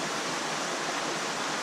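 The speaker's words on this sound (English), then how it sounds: "And the water free fall is about 30 inches or so." Water falling roughly 30 inches through a shower-tower filter packed with nylon mesh scrubbers beside a 25,000-gallon koi pond, a dense, even hiss of splashing water, loud and unbroken throughout.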